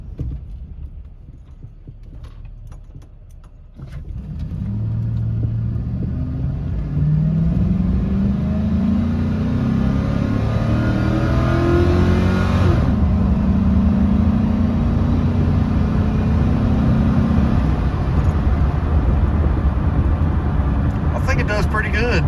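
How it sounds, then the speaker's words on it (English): A stock 2005 Chevy Silverado V8 pickup, fitted only with a high-flow K&N air filter, accelerates hard: a rising engine roar climbs through gears, loud and sustained for most of the run. "It's a V8, it's a Chevy motor."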